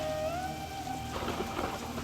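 Steady rain pours down, joined by a deep rolling rumble of thunder; a faint high whistle fades out early on.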